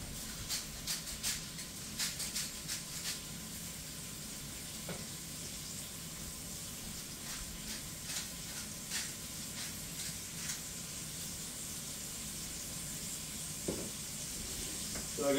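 Two burgers sizzle and fry in a skillet on a farm, a steady close crackling hiss with scattered pops running throughout, with a person talking over it.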